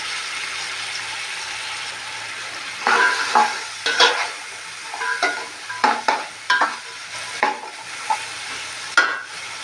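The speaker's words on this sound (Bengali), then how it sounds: "এখন পুঁই শাকের ডাঁটাগুলো দিয়ে দেবো। এটা কতক্ষণ কষিয়ে নেবো আমি।" Malabar spinach stems being stir-fried in a pan, a steady sizzle carrying a run of sharp spatula scrapes and clinks that start a few seconds in and recur irregularly, close and fairly loud, with no talk.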